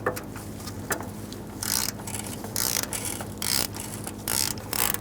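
Ratchet loosening a starter bolt on a 1988-1999 GMC K1500 pickup with a 5.7L V8, heard as repeated bursts of rapid pawl clicking between short pauses, close and loud with no talking.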